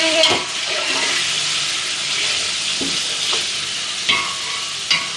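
Beef pieces and whole spices frying in a pot for yakhni pulao: a loud, continuous sizzle with occasional stirring scrapes and clinks against the pot, close and without talk.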